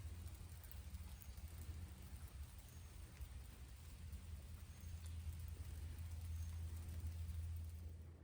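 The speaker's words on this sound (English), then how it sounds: "It's just a drizzle. Nothing too heavy." Light drizzle falling outdoors in Texas sunflower country, a steady soft hiss of rain with a continuous low rumble underneath, alone with no talk.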